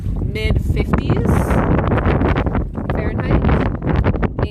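Gusty wind blows over open water during a kayak trip on Trinidad Bay, buffeting the microphone in rough bursts, while a person talks throughout.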